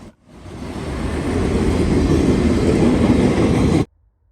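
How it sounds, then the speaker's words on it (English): Norfolk Southern freight train rolling eastbound in early morning near West Jefferson, a loud continuous rumble and rail roar that builds quickly and holds steady before cutting off abruptly. "An early morning sunrise with NS train 178 heading eastbound into Columbus."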